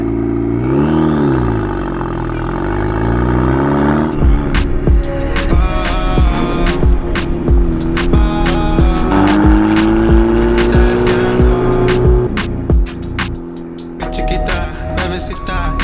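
Mazda Miata donk driving and revving hard, the engine rising and falling in loud sweeping pitch with clattering bangs and pops between revs, a voice briefly heard over it.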